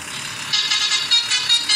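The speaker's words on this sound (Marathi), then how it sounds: "कसं काय वाटतंय आपल्या लालपरीचं हॉर्न?" A video-game bus horn from a red MSRTC 'Lal Pari' bus toots in several short bursts, a rough nasal blare repeating in a quick, uneven rhythm over a quiet background.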